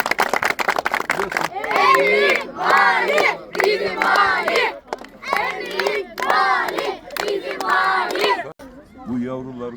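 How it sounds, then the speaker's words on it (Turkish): A large crowd cheers and shouts in repeated loud bursts, with clapping mixed in, applauding the governor of Kayseri during a visit to a children's sports school, before a voice speaks briefly in Turkish at the end. "Bir Vali Bey'i alkışlayalım Kayseri Valimize."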